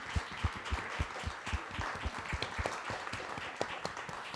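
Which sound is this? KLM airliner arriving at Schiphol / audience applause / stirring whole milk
audience applause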